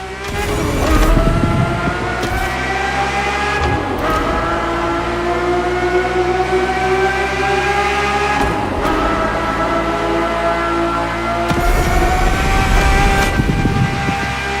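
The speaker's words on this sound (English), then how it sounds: "The F50's core is a normally aspirated V12 that came straight from a Formula One." A Ferrari F50's naturally aspirated V12 in The Crew Motorfest screams at high revs, with its pitch sweeping up and dropping at a few gear changes, loud and continuous.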